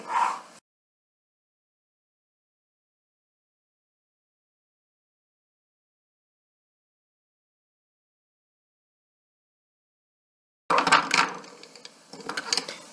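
Small liquid lipstick tubes clatter and knock together as they topple over on a table, a brief burst of light plastic clicks at the start and another cluster of quick taps near the end, with silence between.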